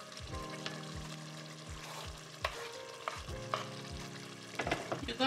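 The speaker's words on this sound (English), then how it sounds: "And while that's going, we're also gonna go ahead and add the peppers and the onions." Peppers and onions frying in oil for peppered goat, with a steady sizzle under repeated stirring scrapes and tonal clinks from the pan, building louder near the end.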